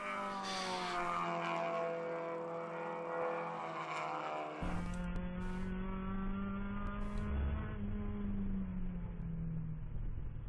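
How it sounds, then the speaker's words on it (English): Endurance race cars in the ChampCar series at VIR's Winter Classic roar past one after another, engine notes rising and falling as each car approaches and recedes, heard from trackside at a steady moderate distance. "It's great to hear the cars come by"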